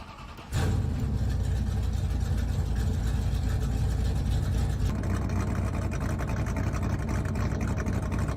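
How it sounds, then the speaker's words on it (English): Race car engines firing at the TLC Incorporated Music City 150: after a quiet moment the engines burst to life together into a loud, dense, sustained roar that continues steadily through the rest. "Drivers, start your engines"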